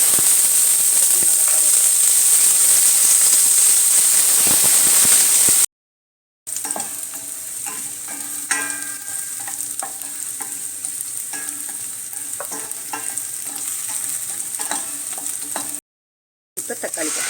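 Onions frying in a pan of hot oil with mustard seeds, urad dal, cumin and fenugreek for a village-style prawn curry, a steady loud sizzle with scattered scraping stirs, interrupted by two short silent gaps.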